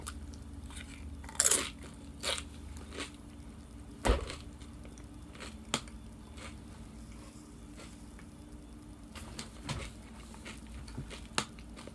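A salty corn chip loaded with bean dip made with caramelized onion, sausage and pepper jack cheese crunches in a few close bites, followed by soft chewing and faint clicks in an otherwise quiet room.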